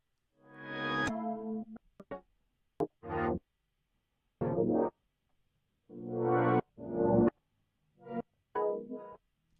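Soloed circuit-bent glitch channel from an Ableton production, heard alone as a run of distorted, effected synthetic bursts, some sustained and others clipped short, separated by abrupt silences.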